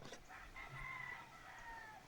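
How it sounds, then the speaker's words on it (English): Roosters crowing from a tree in Nicaragua before sunrise, a faint, distant cock-a-doodle-doo with a second answering crow, plus soft clucking in the quiet background. "We were awakened rather by roosters in the tree."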